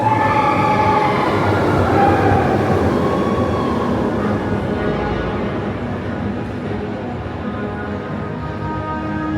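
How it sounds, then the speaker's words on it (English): Walt Disney World Railroad train rumbling through a tunnel, a steady, dense low roar with metallic rail tones, loud and close at first and then slowly fading as it passes. "the Walt Disney World Railroad actually goes through a tunnel down here"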